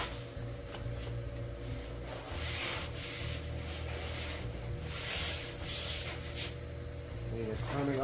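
Close scrubbing strokes rub against a surface in uneven bursts, with a low steady hum underneath and a voice speaking at points.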